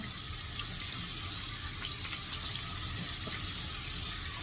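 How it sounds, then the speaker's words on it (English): Tap water runs steadily into a sink in a home bathroom, a soft continuous hiss and splash with faint small clatters, alone without talk. "Lots of running water."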